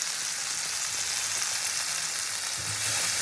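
Spice paste sizzles and fries steadily in a pan for a tangra fish curry, a continuous close hiss with slight bursts and a brief stir near the end, no voices.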